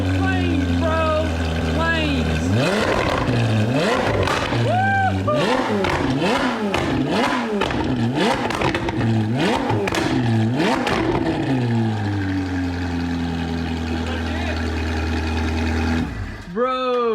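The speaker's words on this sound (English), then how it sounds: "it pops way louder now. And it actually like keeps popping a little bit." A Ferrari 458 Spider, rebuilt after a wreck and spitting flames, revs hard again and again, each rapid rise and fall of the engine followed by sharp exhaust pops and crackles, loud and close, ending with a brief burst.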